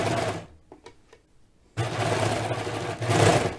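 A serger stitching through fabric, a fast steady mechanical whir in two bursts separated by a pause with a few faint clicks, close and fairly loud.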